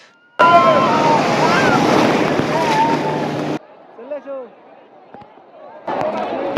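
Sea waves break on the beach at Digha in West Bengal as a loud, close rush of surf mixed with wind buffeting, then ease off while voices speak before another wave surges in.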